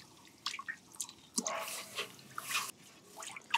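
Granular urea being stirred into water to dissolve it for treating rice seed, soft close sloshing, drips and squishy swirling in irregular bursts, fairly quiet, with no speech.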